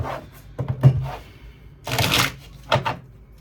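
Tarot cards being shuffled by hand in a few quick riffling bursts, close and fairly loud, with short pauses between them and no talking.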